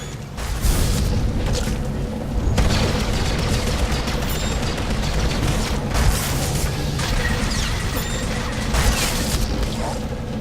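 Explosions and blasts from a research station being blown up in Star Wars: The Old Republic, on the planet Taral V, with dense booming and crackling debris rolling continuously for about ten seconds, loud and sustained with several heavier bursts.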